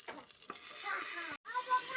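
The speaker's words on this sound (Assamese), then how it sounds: "এয়া দালিৰ কাৰণে পিঁয়াজ, নহৰু, জলকীয়া 3টামান লগাই দিছোঁ আৰু।" Onion, garlic and a few chilies sizzle in hot oil for dal while being stirred, a close crackling fry broken by scrapes of the spoon and a brief silent cut.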